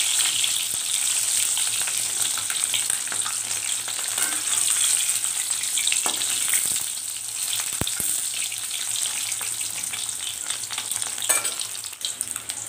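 Eggs frying in a pan give off a loud, steady, continuous sizzle and crackle with no pauses and no talking.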